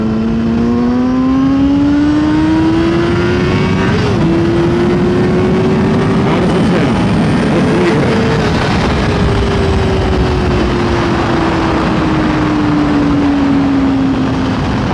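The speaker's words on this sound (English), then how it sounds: "now I'll test the wind" Wind roaring over a motorcycle rider's helmet fitted with a wind noise blocker at speed, a loud steady rush mixed with the engine's droning hum that rises and falls, continuous with no talk.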